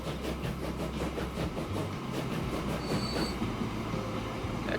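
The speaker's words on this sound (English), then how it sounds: "That train looks like he means business." A steam train rolling along the track in Transport Fever 2, with rhythmic wheel clatter, metallic squeals and a brief high whistle-like tone, steady and fairly close.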